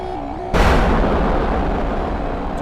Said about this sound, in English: let's just go ahead and fire aim 120s at nothing